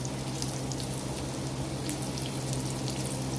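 Chicken pieces fry gently in a pan of oil over a low flame, with a steady soft crackle and bubbling hiss that stays even throughout, and no one talking.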